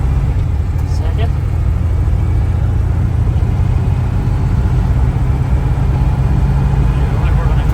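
Engine of a 1979 Dodge RamCharger that sat for 15 years, running as a steady, loud low rumble throughout, with a voice heard faintly over it.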